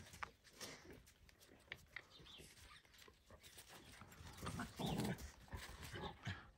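Two dogs, one a large heavy female, play-fighting two against one, giving a busy stretch of scuffling, snuffling and clicking paws with short growly bursts, loudest near the end, at a moderate distance.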